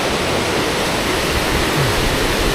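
White water rushes below a dam on the Fox River, a loud, steady, broadband roar that fills the whole stretch without a break.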